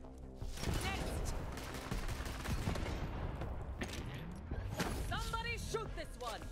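Rapid, dense gunfire from the Borderlands 3 video game cracks in close, loud bursts that run almost without pause, with whistling game effects near the end and no talk.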